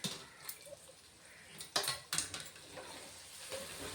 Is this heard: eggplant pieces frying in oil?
yes